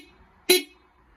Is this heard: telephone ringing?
no